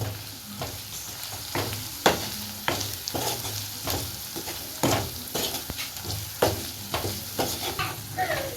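Chettinad crab masala sizzles in a frying pan as it is stirred, with a continuous frying hiss and regular scraping strokes of the spatula roughly every half second, close up with no talk.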